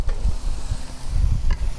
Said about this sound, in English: Oh, you hear that sizzle? That means it's cooking.